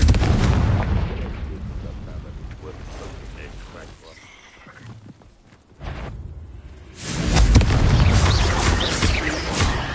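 Confringo fire spell blasts in Hogwarts Legacy on PS5, loud booming explosions with crackling bursts filling most of the stretch, a quieter dip in the middle before another heavy blast swells back up.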